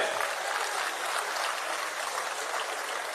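An audience claps steadily at a prize-giving ceremony, a dense, even wash of applause with no breaks from start to finish.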